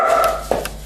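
Dogs in a home barking and yelping, a couple of short sharp yaps standing out against a steady low background hum; the sounds are moderately close and brief.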